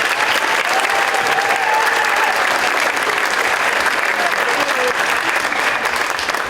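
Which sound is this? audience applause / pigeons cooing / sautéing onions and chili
audience applause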